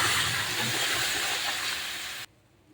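Curry is poured into hot cumin tempering and sizzles loudly, a steady bright hiss that runs for about two seconds and then cuts off abruptly to near quiet.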